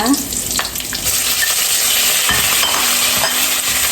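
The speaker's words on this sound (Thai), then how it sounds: "เดี๋ยวเราใส่หมูลงไปผัดเลยนะคะ" Pork stir-frying in hot oil with fried shallots, a loud, dense, continuous sizzle close by, with occasional soft stirring scrapes.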